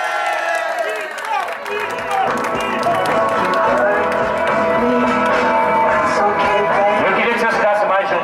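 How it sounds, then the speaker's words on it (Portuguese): Guests at a birthday party clapping and cheering together, a loud, busy crowd sound mixed with excited voices and shouting close by. "Pode bater palmas aí, pessoal!"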